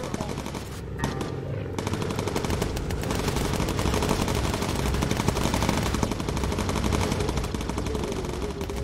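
Sustained machine gun fire from a bomber's turret in the World War II flight game Bomber Crew, loud rapid bursts running nearly continuously, with a brief lull near the start.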